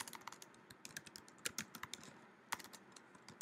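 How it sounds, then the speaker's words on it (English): Typing on a computer keyboard comes through as a quick, irregular run of light key clicks, with a few louder taps standing out and no talk over it. "typing on computer"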